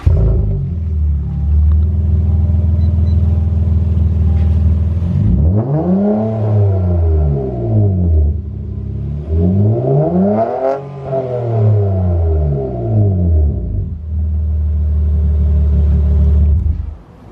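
Manual BMW G80 M3 with its six-cylinder engine on the stock exhaust, revved hard twice in a row: loud, close, rising and falling sweeps over a steady idle rumble, with no talk.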